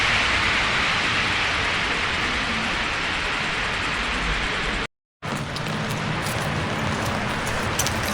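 Steady rain hisses over a Stockholm street on a cold day. The broadband wash is briefly cut by a short gap, and faint traffic can be heard underneath.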